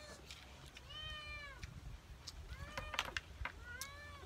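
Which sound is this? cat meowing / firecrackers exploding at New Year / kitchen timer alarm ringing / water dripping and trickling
cat meowing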